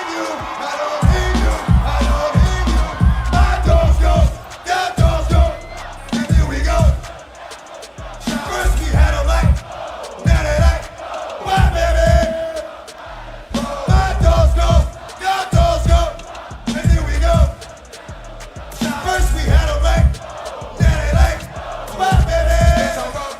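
A huge outdoor festival crowd of several hundred thousand at a DMX set at Woodstock roars in rhythmic waves, chanting and yelling back in repeated call-and-response bursts with a loud amplified rap vocal.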